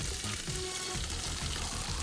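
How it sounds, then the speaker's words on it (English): Steady sizzling of herbs frying in a pan, a constant crackling hiss with faint low clatter, no talking. "Do you hear that sizzle?"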